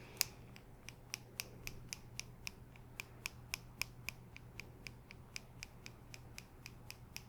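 Salon scissors cutting hair in a close-up ASMR haircut setting, a steady series of crisp, sharp snips repeating roughly every few tenths of a second, quiet and intimate over a low hum.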